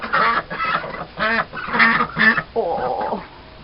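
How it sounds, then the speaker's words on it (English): Several ducks quack close by in a series of loud, harsh bursts, with a brief longer call near the end. "Come on, you silly ducks."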